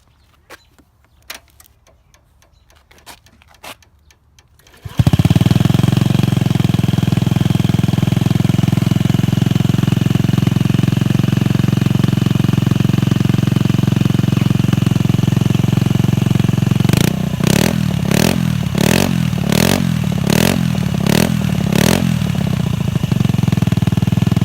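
A Honda Ruckus scooter with a DR.D aftermarket exhaust and stock air box: after a few clicks and quiet handling, the engine fires at about five seconds and idles loudly and steadily, with a burst of rhythmic throttle blips near the end.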